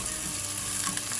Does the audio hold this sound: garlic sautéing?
yes